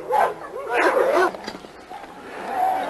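An American pit bull terrier barking and yipping in an outdoor yard, a few quick vocal bursts with whimpering tones between, mixed with background chatter.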